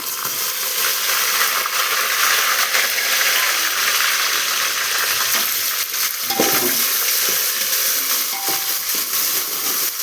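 Browned onions frying in oil with coriander paste, being stirred in a pan: a steady close sizzle throughout with a few sharp scraping clicks of the spoon near the middle and end, no voices.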